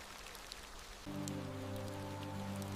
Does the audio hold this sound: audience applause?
no